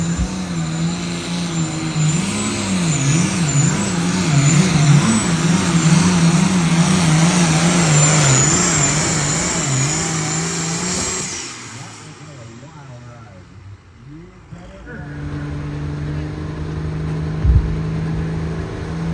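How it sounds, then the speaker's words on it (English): A high-horsepower pulling tractor, Gary Bontrager's Braking Barrier, roars loudly at a truck and tractor pull, its engine note wavering as it drives down the track for about eleven seconds before cutting off abruptly, followed by quieter crowd and arena noise. "Next, Gary Bontrager, the braking barrier tractor."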